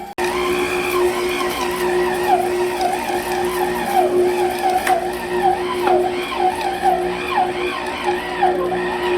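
An AceKool stand mixer with a mixing paddle works through stiff pizza dough, a steady motor whine with a constant hum and warbling, strained fluctuations running throughout, close and alone.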